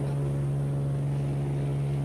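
A small seaplane sits on the water near Seattle, its engine giving a steady, low, close droning hum with no break for the whole stretch.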